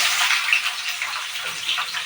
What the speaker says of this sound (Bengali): এবার আমি এই পেঁয়াজগুলো দিয়ে দিচ্ছি।